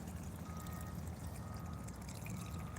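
Water pours steadily onto an air layer in a backyard orchard garden, a soft continuous splashing trickle, close and quiet, with no talk.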